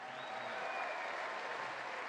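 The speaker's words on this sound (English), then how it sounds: "how about one more big round of applause for Brandon Hendrickson." Sustained audience applause fills a large venue at a bodybuilding competition, a dense, even wash of clapping that holds steady throughout without voices breaking through.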